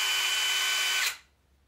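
A DeWalt DCF891 1/2-inch mid-range impact wrench running free in precision wrench mode 1, a steady high motor whine for about a second before spinning down quickly into quiet, with no talking.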